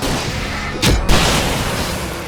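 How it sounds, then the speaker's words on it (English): Fireworks go off in the video game Alan Wake Remastered: one loud, sharp blast cuts through a dense, roaring layer of game noise, then the steady din carries on. "I can set off more of the fireworks from here and help you out!"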